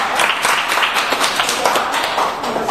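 A crowd at a symposium gives a guest of honor an even, continuous burst of applause, with some murmuring audible underneath the clapping.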